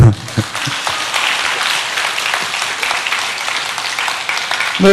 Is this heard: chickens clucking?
no